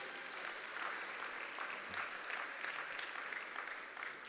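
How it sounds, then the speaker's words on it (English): Sustained audience applause for Jamaica's Minister of Agriculture, Fisheries and Mining at an agri-business investment forum, a steady dense wash of clapping from a full room lasting throughout at moderate level with no speech. "A round of applause once more,"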